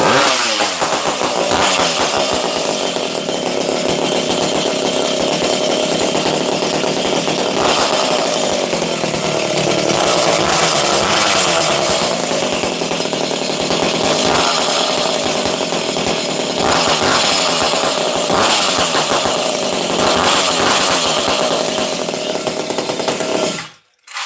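Buchan's 850 chainsaw runs loud and close the whole time, a steady revving engine roar with slight rises in pitch, cutting off sharply at the very end.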